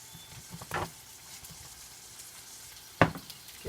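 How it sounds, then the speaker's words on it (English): Pineapple vinegar added to dandelion root oil, setting off a soft, steady sizzle with a couple of louder bursts of spatter, heard close and without talk. "I'm going to add some of this pineapple vinegar, ooh, lovely, to the oil"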